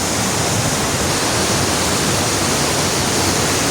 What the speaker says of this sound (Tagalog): Nabot na kita sa kinutuban sa Barangay Falls